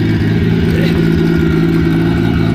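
A Nissan car engine revs loudly at close range in a garage, a steady throbbing drone that holds level for the whole short burst.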